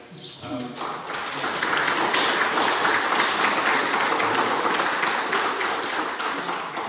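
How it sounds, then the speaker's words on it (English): A field day crowd breaks into applause, starting with a brief voice, then swelling into a dense, sustained wash of clapping that stays loud and even before easing slightly at the end. "She deserves a round of applause, guys."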